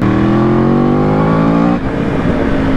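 Yamaha R1 engine revving hard and climbing steadily toward 7000 rpm, loud and close, then cutting back as the throttle closes and settling into a rougher lower drone.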